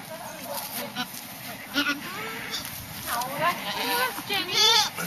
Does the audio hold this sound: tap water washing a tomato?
no